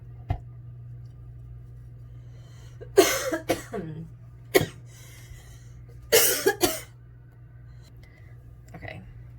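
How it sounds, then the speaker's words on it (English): A person coughs in several harsh bursts from spicy chicken seasoning, a couple of sharp coughs and two longer fits, with quiet breathing and a low hum between. "this seasoning always makes me cough and sneeze like crazy"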